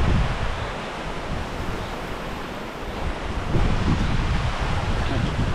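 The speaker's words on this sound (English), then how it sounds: "there's a fair amount of wind coming across here" Steady wind blowing across lake water at Derwentwater in the Lake District, a dense roaring rush that buffets the microphone and swells louder midway, with no talking.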